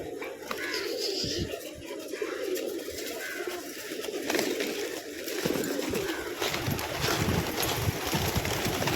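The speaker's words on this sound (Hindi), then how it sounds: "बहुत सारे कबूतर है माशाल्लाह यहाँ पर" Pigeons cooing at an outdoor shrine, with soft, repeated low coos mixed with wing flutters and scattered clatter over steady wind noise, the birds close by and clustered together.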